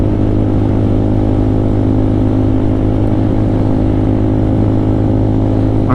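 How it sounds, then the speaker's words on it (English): A Lifan KPR200 motorcycle fitted with a KP Moto aftermarket exhaust idles and revs close by, a loud, steady rumbling drone that holds throughout with no talking. "The KP Moto exhaust on here"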